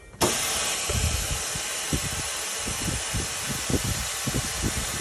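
A steady loud hiss of escaping air from a Baseline 500 tire changer's air valve, with a small drilled hole, runs throughout, with low mechanical thumps and rattles underneath.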